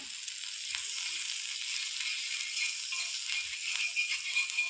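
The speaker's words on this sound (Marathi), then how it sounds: "तव्यावरती बटर टाकून घ्या" Butter sizzles on a hot griddle before roti pizza is cooked, with a bright, even hiss and occasional crackles, close and continuous, with no voices.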